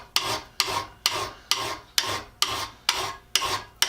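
A hand file rasps across a snapped-off saw blade in steady, evenly spaced strokes, roughly two per second, each a sharp scraping burst. The sound is close and clear, with no talking.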